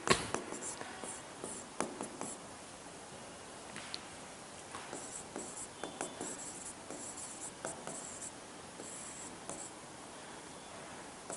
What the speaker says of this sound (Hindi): तो नोट लगाकर यहां अपन एक लाइन लिखेंगे